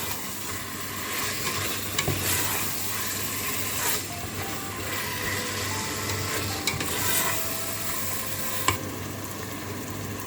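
Raw meat being stirred and fried in a pot for Afghan-style kachalo qorma, with a steady sizzle and hiss under repeated scraping and clinking of the spoon against the pot.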